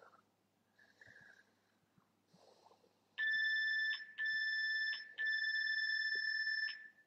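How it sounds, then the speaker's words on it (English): Workout interval timer alarm: three loud, bright electronic beeping bursts, each lasting about a second, after quiet breathing and soft rustling, with no talk over the tones. "bring your knees to your chest and just curl in a ball while until that timer goes off"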